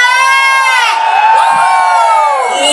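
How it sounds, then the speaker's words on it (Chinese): An outdoor concert crowd at Pingtung Millennium Park screams and cheers loudly in one sustained roar, with high whoops and shouts layered over a continuous wall of voices. "来点尖叫声吧"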